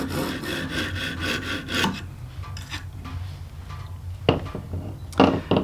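A knife is sharpened on a Lansky stone, making close, rhythmic rasping strokes with brief pauses between passes and no voices.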